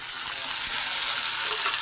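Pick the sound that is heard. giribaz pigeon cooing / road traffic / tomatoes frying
tomatoes frying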